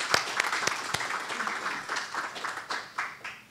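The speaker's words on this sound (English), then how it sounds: "So give yourselves a round of applause," Audience applause at a Women Who Inspire 2019 event, a steady wash of clapping from many hands with a few sharper close claps near the start, fairly loud and continuous throughout.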